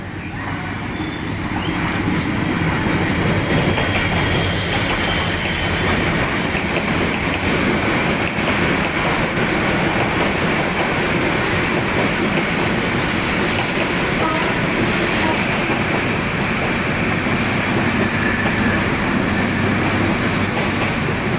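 A Bangladesh Railway intercity express hauled by a new locomotive passes by at speed without stopping, a loud steady rush of wheels and carriages filling the whole stretch with continuous rumble and rattle.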